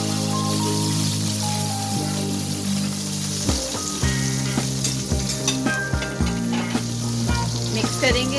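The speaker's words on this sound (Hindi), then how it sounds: "तो अब मैं ये तड़का कड़ी को लगा रही हूँ" Hot oil tempering sizzles and crackles loudly as spices are poured into a pot of kadhi, followed by scattered stirring clinks and bubbling pops.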